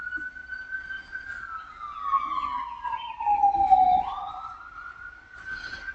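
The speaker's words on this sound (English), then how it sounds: "sirens," A single emergency siren wails in the distance outside, its tone sliding steadily downward and then rising again, moderately loud and continuous with no talking.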